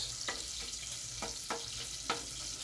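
Onions sizzling in a hot pan, a steady broadband frying hiss throughout with a few sharper crackles and stirring scrapes, close and fairly quiet, no talking.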